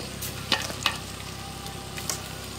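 Ginger and garlic fry in a pan for duck curry, a steady close sizzle broken by a few sharp pops and spatters as the spoon stirs.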